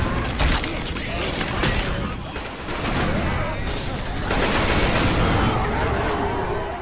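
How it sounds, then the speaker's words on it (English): Gunfire from the zombie shooter game Left 4 Dead 2, aimed at gas cans, sustained loud volleys of shots with booming bursts, dense and continuous, with someone talking over it. "to get past the next part, we just need to shoot the gas can"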